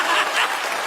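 Congregation clapping inside an Assembly of God church in Nashville, a short dense burst of many hands applauding together, fairly close and loud.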